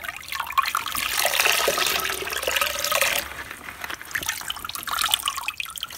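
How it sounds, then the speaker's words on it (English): Water runs and splashes while natural virgin hair is washed, the gurgling flow swelling and fading close by with no talk. "Washing hair is pretty fun."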